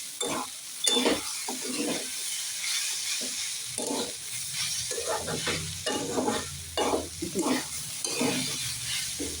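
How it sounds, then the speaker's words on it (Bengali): Dalia (broken wheat) sizzles in a pan while a spoon scrapes and stirs it in repeated bursts, close and clear, with no talking. "ভালো করে একটু ভেজে নেবে"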